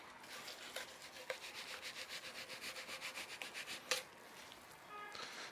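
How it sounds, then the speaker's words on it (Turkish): Thin fillet knife sliding between salmon skin and flesh, giving a steady run of soft, rhythmic rasping strokes with a few sharper scrapes, close and alone without talk. "Şöyle bir tane fileto bıçağı yardımıyla şöyle altından giriyorum. Tam deri ile etin arasına."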